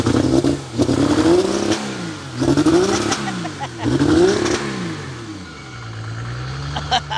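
Supercharged petrol and turbo diesel BMW engines rev repeatedly at a drag race, several loud close sweeps up and down in pitch, settling toward a steadier idle near the end.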